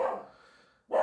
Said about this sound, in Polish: jak słyszycie psa, to przepraszam